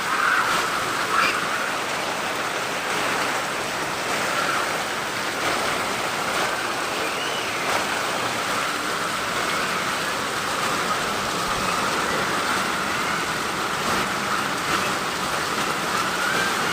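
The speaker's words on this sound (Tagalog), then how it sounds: "Bigla lang umulan ng sobrang lakas." Heavy rain pours steadily in a dense, constant hiss, a loud unbroken downpour with no voices.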